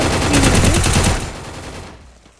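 MP5 submachine gun fire in the Free Fire game: a loud, fast burst of rapid shots that fades out with a short tail.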